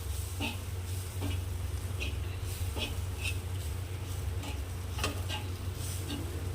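Green chillies frying in a pan with crushed peanut powder, a soft steady sizzle broken by regular spoon scrapes and taps as the mix is stirred, with a low hum underneath.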